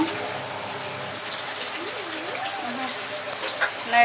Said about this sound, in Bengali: হালকা ঝোল দিয়ে দেব হওয়ার জন্য